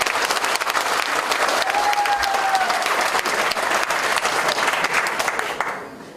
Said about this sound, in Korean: 박수 소리가 너무 크신 것 같습니다